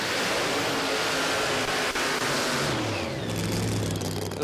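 Drag racing car launching down Sydney Dragway, a loud broadband engine roar filling the air, steady and intense, then the pitch sweeping as the car pulls away near the end.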